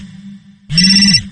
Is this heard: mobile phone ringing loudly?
yes